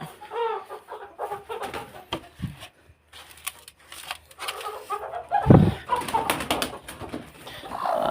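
Hens cluck and murmur in short bursts nearby, with scattered rustling and a louder squawk partway through, on a farm where hens are set to brood eggs on sand and straw.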